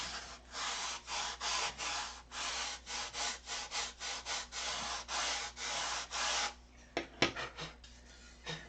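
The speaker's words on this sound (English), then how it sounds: "Get it sanded down to the line. Sand the line off." Wood sanded by hand down to a marked line on a mold, with steady rhythmic back-and-forth strokes, close and fairly loud, then a few scattered knocks and scrapes near the end.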